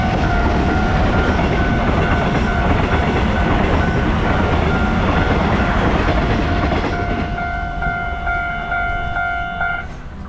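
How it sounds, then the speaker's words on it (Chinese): A train rumbles loudly and steadily past a level crossing in Yilan, Taiwan, with clear, sustained ringing tones joining the roar toward the end as the noise slowly eases. "现在先等火车过哦"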